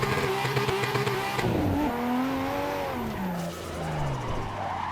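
Tires skid and squeal on a car in a racing simulator video game, with the engine note rising and falling as it slides; loud and continuous throughout.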